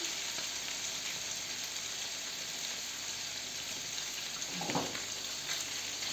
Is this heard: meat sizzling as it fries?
yes